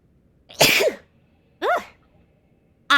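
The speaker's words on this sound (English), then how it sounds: "I realized I sneezed in front of my mic" Three sharp, close sneezes burst straight into a microphone, spaced about a second apart, each a loud explosive blast with a vocal edge.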